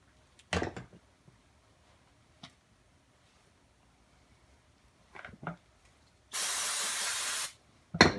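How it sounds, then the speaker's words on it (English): Carburetor cleaner sprayed from an aerosol can onto a rag during a tune-up of a 1955 Johnson 5.5 hp outboard: one loud, steady hiss about a second long, set among scattered knocks and handling noises. "A little carburetor cleaner on the rag just to wipe everything down."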